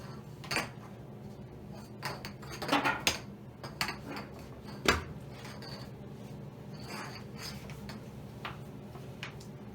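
Gluten-free haystack mixture stirred in a bowl, quiet intermittent scraping and clinking of a utensil against the bowl in short irregular bursts.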